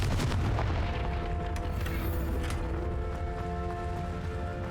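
Confringo blasting spell going off in the Hogwarts Legacy video game, a loud broadband burst at the start that decays into a steady rumble with lingering tonal hum, no voices.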